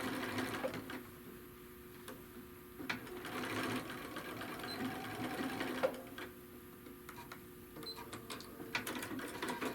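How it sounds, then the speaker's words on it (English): A sewing machine stitches the lining of a handbag in quick mechanical bursts, its motor whirring and needle clattering in short runs separated by brief pauses, close and clear with no talking. "this is going to be stitched several times because we have to put the inner and the outer together and all that"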